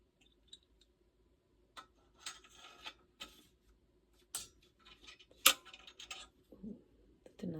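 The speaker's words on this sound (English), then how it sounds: "It was just the valve clicking into place." Sharp metallic clicks from a pocket cornet valve being seated, a few isolated ticks followed by a denser cluster of small mechanical clicks and rattles, close and fairly quiet.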